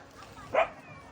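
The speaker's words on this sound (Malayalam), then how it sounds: "എവിടെ പോയാലും തെരുവ് പട്ടികളെ വേളം." A single short bark from a street dog sounds once, faint and somewhat distant, over low background noise, at Vagamon Mottakunnu.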